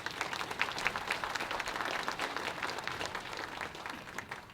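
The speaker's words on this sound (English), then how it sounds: "Let's give them a big round of applause again." Audience applause at a Chiefs of Ontario education symposium, a fairly distant, even wash of many hands clapping that holds steady and tapers slightly at the end.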